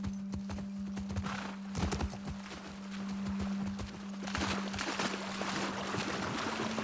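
Horses walking on hard ground in the video game The Last of Us Part 2, irregular hoof clip-clops near and soft over a low steady hum, with an occasional snort.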